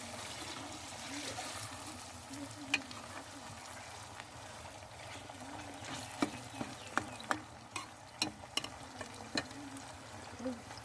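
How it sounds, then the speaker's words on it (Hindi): Chicken frying in a pan with tomato and onion for a moringa-flower chicken dish, giving a low steady sizzle with scattered clicks and scrapes of stirring, clustered toward the end. "टमाटर और प्याज अच्छी तरह भूनने के बाद चिकन डाल देंगे इसमें और चिकन को अच्छी तरह से भूनेंगे"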